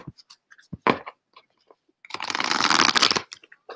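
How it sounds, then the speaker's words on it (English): Close-up oracle card handling: a few light taps and flicks, then a sustained riffling shuffle for about a second, followed by scattered small clicks. "you hear the shuffling"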